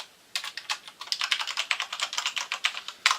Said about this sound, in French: Alors voilà pour le clavier, il est magnifique franchement en aluminium, avec une plaque aluminium sur tout